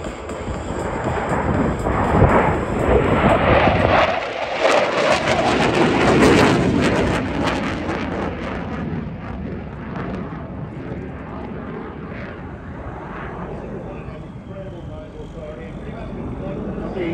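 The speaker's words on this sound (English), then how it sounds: "The jets coming through" Military jets roar past at the Australian International Airshow 2023. A loud, rumbling jet-noise wash swells at the start and slowly fades into a distant, lingering roar.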